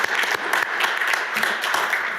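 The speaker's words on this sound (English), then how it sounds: "All right, give him a round of applause." Applause for the city's poet laureate at a Little Rock Board of Directors meeting, a brief, even burst of clapping from a modest room audience.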